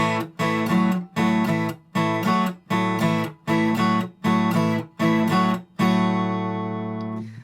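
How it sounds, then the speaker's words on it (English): Guitar chugs out a repeating root-fifth, root-sixth blues rhythm pattern, short bursts of notes with brief gaps, ending on a sustained ringing chord; no talking. "Then we go into this typical blues pattern, rhythm pattern that sounds like this."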